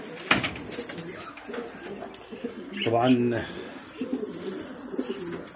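Pigeons or doves in a rooftop loft during winter, giving a brief low cooing call midway, fairly close, while someone talks over steady outdoor background noise.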